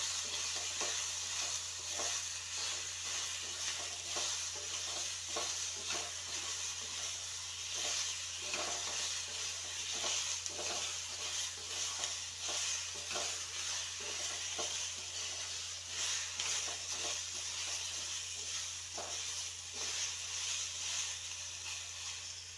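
A food mixture fries in oil in a pan and gives a steady hissing sizzle throughout, with a low hum underneath and repeated soft scraping strokes as a spoon stirs it.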